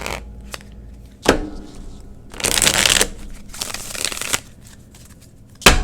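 Playing cards shuffled in crisp bursts, with riffles and a longer riffle in the middle, then single sharp card snaps, close and loud in a quiet room.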